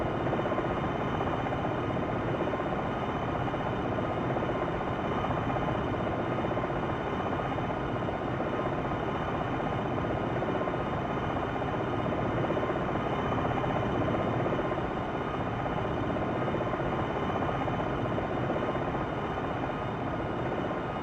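Steady, dense rotor and turbine roar of an Apache Longbow helicopter flying forward in the Jane's Longbow Gold flight simulator, continuous and unvarying throughout with no voices.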